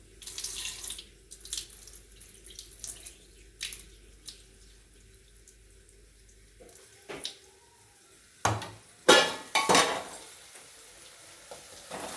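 Water runs and splashes into a vessel of washed lentils in bursts, with trickling and a few louder pours near the end, close by and without talk.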